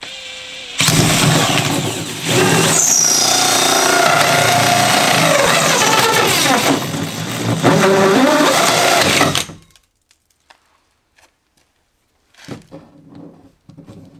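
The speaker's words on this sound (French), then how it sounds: "pour le perçage, j'y fais avec une scie cloche en 68 mm de diamètre" A 68 mm hole saw cutting through a plastic ceiling panel makes a loud, steady, whining drill roar for about nine seconds, then stops abruptly, with faint scraping and handling noises afterward.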